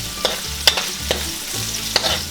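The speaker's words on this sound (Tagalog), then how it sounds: "Hahaluin lang po natin siya. At hihintayin po natin na bumango yung ating sibuyas." Onions frying in a pan for pork tripe adobo, stirred with several distinct scraping clacks of the utensil against the pan over a soft continuous sizzle, nearby and without talk.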